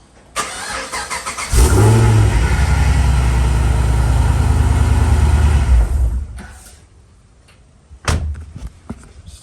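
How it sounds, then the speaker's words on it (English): A supercharged Holden Commodore SS ute's 6-litre V8 cranks and fires at close range, then settles into a loud, steady idle for several seconds before the engine shuts off, followed by a few clunks. "Just a quick start up"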